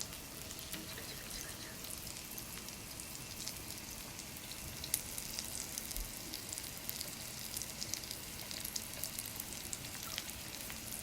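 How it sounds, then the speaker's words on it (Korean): Close, continuous sizzling from skewers frying in a pan, a dense crackling hiss with occasional sharper pops. "와 지글지글 ASMR이네요."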